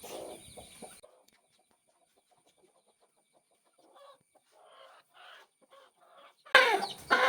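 A fighter chicken with lice and facial wounds clucks briefly, then near silence with faint rustling, before a loud, close burst of agitated clucking at the end.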